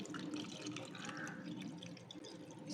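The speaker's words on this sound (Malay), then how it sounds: "Ni air gula yang telah disejukkan ya." Cooled sugar syrup for kuih lompang pours into a bowl of rice flour and tapioca flour, a faint, close, continuous liquid trickle with small drips, no talking.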